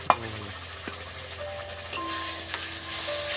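Onion paste hits hot oil in a pan while cooking doi katla, a soft, steady sizzle with a clatter at the start and a few light clinks of stirring.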